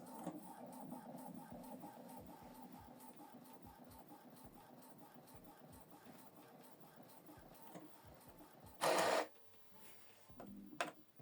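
Epson EcoTank ET-3950 inkjet printer running a photo print, a steady low mechanical whir with faint rhythmic ticks, quiet and close, then a brief louder burst of paper feed or motor noise near the end.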